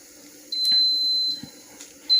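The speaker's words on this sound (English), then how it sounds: "you hear that beeping noise. That's my rice. I got my rice cooker" A rice cooker beeps in a home kitchen: a single long steady electronic tone followed by a second beep starting near the end, heard clearly over faint background noise.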